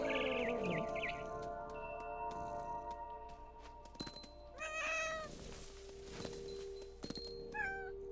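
Cat in What Remains of Edith Finch meows and caterwauls in several drawn-out wavering cries amid game sounds, with sharp thumps and bird-like chirps, faint overall and without speech.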